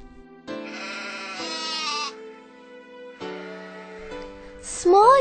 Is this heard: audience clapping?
no